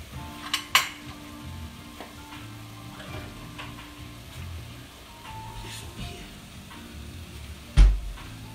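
Sloppy joe mix with a dash of Worcestershire sauce sizzles softly in a pan while a utensil scrapes and clinks against it, with a couple of sharper knocks and voices talking over the cooking.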